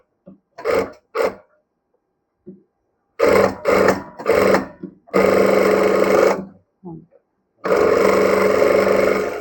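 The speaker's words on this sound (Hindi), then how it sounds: "उसके बाद और एक सिलाई लगा लेंगे पैक" A sewing machine stitches a deep V-neck princess-cut blouse, running in several loud bursts of rapid stitching separated by short pauses, with a brief start-stop at the beginning.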